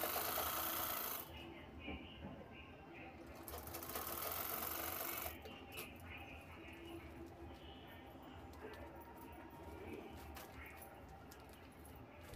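A sewing machine stitches a zip onto a fabric shopping bag in quiet, rapid bursts that start and stop, with someone speaking softly between runs.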